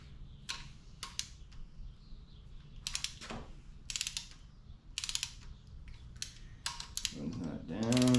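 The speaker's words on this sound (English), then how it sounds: "we're gonna go ahead and torque it" A torque wrench tightens a bolt on a Chevy 5.3 engine during a valve spring swap on a Bel Air: short bursts of crisp ratcheting clicks repeat about eight times, close and clear, with a brief voice at the end.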